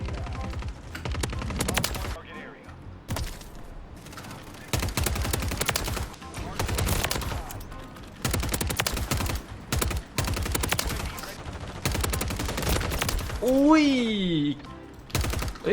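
Rapid automatic fire from a Superi 46 (CMMG MkG) SMG in the video game Call of Duty: Modern Warfare, in many loud short bursts with brief gaps, while a player talks throughout.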